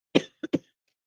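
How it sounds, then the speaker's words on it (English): A close, dry cough: one firm burst followed quickly by two shorter coughs, then silence. "Another cough."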